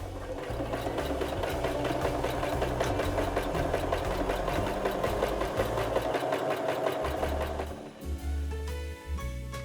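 Sewing machine stitching around the seam of a Christmas stocking: a fast, steady mechanical chatter running continuously, close up, briefly pausing and restarting near the end, with no talk.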